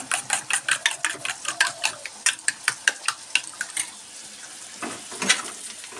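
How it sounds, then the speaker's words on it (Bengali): Onions fry in a pan while a utensil stirs them, giving a quick run of about twenty sharp scraping taps. A softer sizzle and a few scattered scrapes follow, close and fairly quiet, with no talking. "পেঁয়াজটা দেখুন কিছুটা ভাজা ভাজা হয়ে গেছে।"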